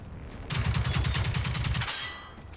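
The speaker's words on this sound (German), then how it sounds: "die schießen mit Raketen" Enemy rocket fire in Generation Zero: a rapid, evenly spaced volley of about a dozen loud bursts lasting over a second, then a fading tail.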